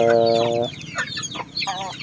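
A Jolohano Basilan broodcock, a rooster, gives a loud, close, drawn-out call followed by several shorter clucking notes, heard on its own.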